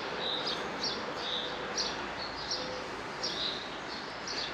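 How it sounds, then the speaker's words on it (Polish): Birds chirp inside an abandoned Evangelical church in Lower Silesia, repeated short high calls at a steady pace, moderately faint over a constant hissy background. "Na razie słychać ptaki wszędzie"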